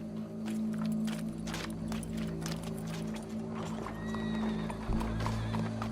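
Horse hooves clip-clopping at a run in Red Dead Redemption 2, a fast irregular patter of hoofbeats over a low steady background hum and noise, with no clear whinny standing out.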